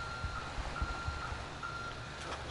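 A large mission truck in GTA Online sounds its reversing alarm: a steady run of evenly spaced electronic beeps, moderately quiet over a low engine idle, with no voices.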